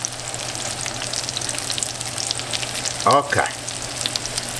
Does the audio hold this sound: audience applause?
no